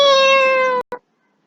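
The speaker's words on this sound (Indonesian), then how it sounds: "A kitten says, meow, meow." A cat gives one loud, clear, drawn-out meow, followed by a brief faint chirp before silence.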